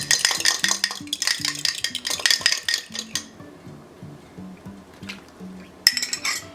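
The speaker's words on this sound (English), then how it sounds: "And we're gonna mix this up together" A spoon or whisk clinks rhythmically against a bowl while cake batter with eggs and vanilla is mixed, quick repeated taps that slow and soften partway, then a sharp clink near the end; no talking.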